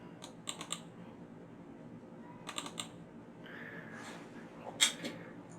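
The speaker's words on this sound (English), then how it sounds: "Double click the voice folder" A computer mouse is double-clicked several times, faint pairs of sharp quick clicks separated by quiet gaps amid low background noise.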